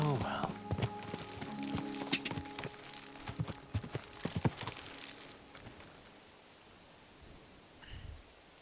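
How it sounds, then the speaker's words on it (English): Horse hooves clip-clop in a quick irregular rhythm, fading as the animal moves off, with faint ambient sound and a voice speaking briefly, in the video game Kingdom Come: Deliverance II. "My God, that looks like a bloody expensive horse"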